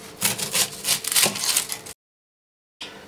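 Knife slicing an onion into thin slices on a board, a run of quick rhythmic scraping chops close up, then a brief silence and one more cut, no talk.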